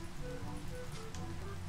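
Steady Minecraft rain hisses evenly throughout at a moderate, unchanging level, with low rumbling beneath and no voices.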